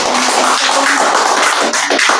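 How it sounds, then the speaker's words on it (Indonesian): Classroom audience applauding a group's presentation in a teacher-training session: a steady, dense wash of hand claps fills the whole span at close range, with no voices over it. "berikan tepuk tangan"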